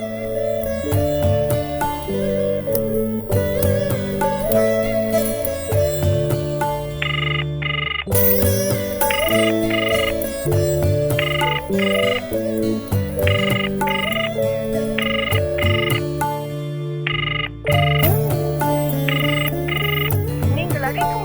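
An unanswered phone call keeps ringing as a loud, repeating melodic ring tune that cycles steadily for about twenty seconds, with short breaks between phrases.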